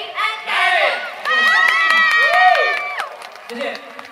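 An audience at a Mother's Day charity concert cheers and shouts loudly to welcome a singer, a steady swell of excited voices that rises and falls across the whole stretch with little sign of distinct clapping.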